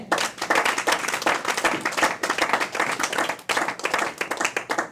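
A church congregation claps and applauds energetically, dense overlapping hand claps filling the room loudly with brief dips, no speech over it.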